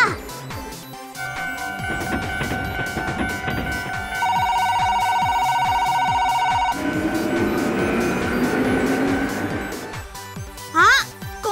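A Plarail toy train set to commuter express mode, with a crossing set: an electronic chime and melody, a departure announcement and rolling train sounds, heard under a narrator's speech.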